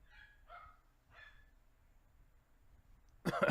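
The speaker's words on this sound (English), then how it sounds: "Dogs going crazy out there for some reason" Several dogs bark outdoors, a few faint, distant barks in quick succession, followed near the end by a sudden loud noise close by.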